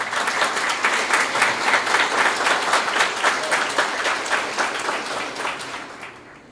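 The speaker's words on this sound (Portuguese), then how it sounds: "Pode dar uma salva de palmas para eles?" Wedding guests at the ceremony break into steady, full applause that carries on evenly and then tapers off toward the end.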